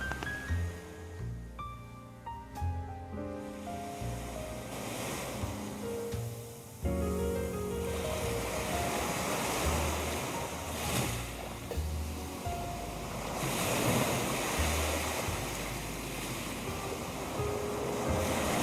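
Ocean waves wash onto a white island beach, a broad continuous roar with surging swells, while faint musical notes ring through the first few seconds.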